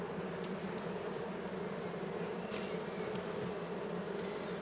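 Honeybees drone steadily inside an open beehive as frames are worked, a dense continuous buzz close by with no talk.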